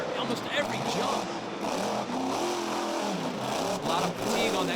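A monster truck engine revving hard during freestyle jumps at a stadium show, loud rising and falling roars under an announcer's running commentary.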